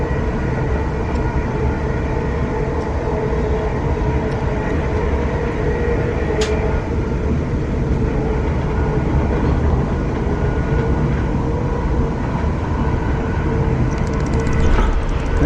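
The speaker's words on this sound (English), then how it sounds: "Here's the water train" A water train rolls steadily past at close range on a North London line, a continuous loud rumble and rattle of wagons with faint clicks of wheels over rail joints throughout.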